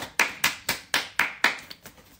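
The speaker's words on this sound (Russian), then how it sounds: "Ну, похлопай нам." Hands clap about eight times in a steady rhythm, close and crisp, the last few softer and quicker, with no talk over them.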